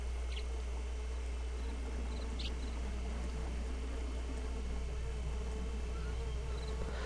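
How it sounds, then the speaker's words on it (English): Bees buzz steadily in a garden, a continuous close droning hum that holds for the whole stretch over a low background rumble. "these bees. I find them quite distracting and annoying"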